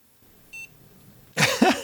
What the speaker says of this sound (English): It's beeping.